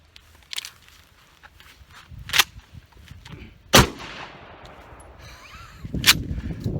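A shotgun loaded with high brass number 4 shot is fired into the rear door panel of a car, giving one sharp, loud blast near the middle, with smaller impacts and knocks before it and a clatter afterward.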